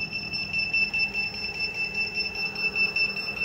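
A steady, high-pitched electronic alarm tone from battery electronics with 304Ah EVE cells at about 10.9 volts sounds nearby, unbroken over a low background hum.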